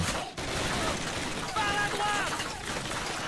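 Dense gunfire in the Call of Duty video game, a continuous crackling barrage under a steady noisy wash, with someone talking over it.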